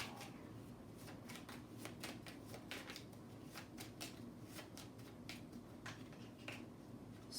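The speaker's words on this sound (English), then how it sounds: "Having a hard time to shuffle." Tarot cards being shuffled by hand, a quick run of soft riffling snaps and flutters at close range, steady and uneven, with no talking.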